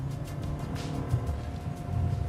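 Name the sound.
car engine growling at high revs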